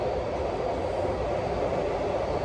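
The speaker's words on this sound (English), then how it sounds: "Train." A passing train makes a steady, loud broadband rumble with a rattling texture. It holds evenly for the whole stretch, and no voices are heard.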